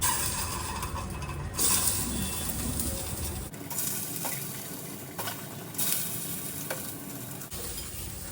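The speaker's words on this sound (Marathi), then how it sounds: "अंडी बॉईल करून घेतलेले आहेत. त्याला आपण थोडं फ्राय करू" Boiled eggs frying in ordinary cooking oil with a little turmeric, giving a steady close sizzle and crackle with occasional stirring scrapes, loudness shifting slightly through the pan noise.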